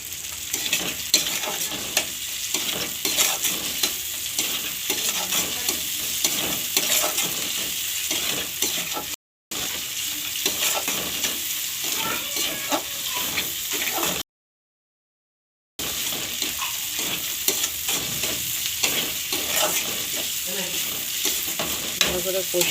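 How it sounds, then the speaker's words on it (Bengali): Masala for egg tarka is sautéed and stirred in a pan: a loud, continuous sizzle with rhythmic stirring, broken by two short silent gaps. "ভালো করে কষিয়ে নেব"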